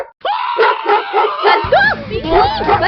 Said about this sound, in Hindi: बचाओ मुझे इस कुत्ते से